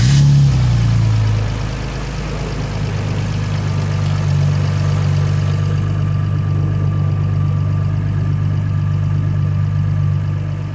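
A BMW E46 engine running on E85 fuel fires up with a brief loud surge, then settles into a steady, even idle with a low droning hum close by.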